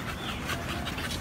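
A small female dog panting softly and rapidly in quick, steady breaths, close by and faint, with no talk.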